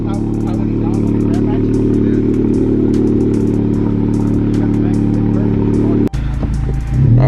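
A 2021 Honda Civic Type R fitted with a PRL catted downpipe idles loud and close with a steady rumble, then drops sharply before rising again with a brief rev near the end.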